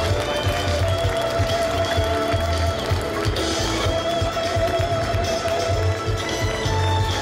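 Applause and crowd noise from dance troupe participants at a dance festival awards ceremony in Cheonan, a steady, dense wash of clapping under a loud festival soundscape with a low rumble and some background voices.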